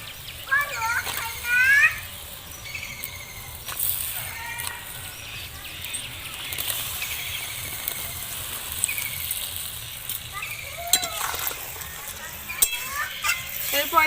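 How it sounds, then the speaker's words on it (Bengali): Jaggery water bubbles at a boil in a pot for a jujube pickle, a soft, steady simmering fizz with occasional stirring scrapes, while a voice talks over it. "গুড়ের জলটা কিন্তু খুব সুন্দরভাবে ফুটে উঠেছে"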